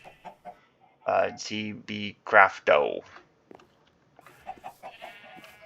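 Chickens cluck in a Minecraft coop, several loud blocky clucks grouped in quick bursts, followed by softer scattered clucks, with a person talking over part of it.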